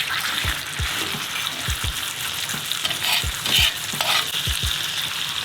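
A steak sears in a skillet over high heat in a cabin kitchen with a loud, constant sizzle. Several sharp, low knocks and scrapes of utensils against the pan sound up close.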